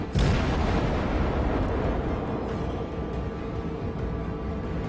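Destroyer guns firing a broadside in a naval video game, one loud booming blast at the start followed by a long rumbling roar that slowly fades, with faint distant pops later.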